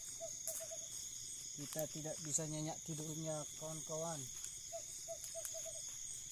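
Owls hooting at midnight during a night-time owl hunt, with short repeated hoots at the start and end while someone talks in between, all over a steady chorus of crickets.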